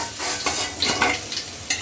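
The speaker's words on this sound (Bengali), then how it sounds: "এই মাছ ভাজার সময় অনেক ফাটে, তেল ছিট" Tengra fish frying in hot oil, a constant sizzle broken by sharp pops and spatters, close and moderately loud, no voices.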